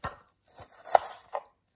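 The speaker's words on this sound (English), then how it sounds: "So you're chopping it?" An onion is chopped with a knife for a jerk chicken sandwich, making a handful of close, crisp knocks on the board with a sharp crunchy cut near the middle, with no talking.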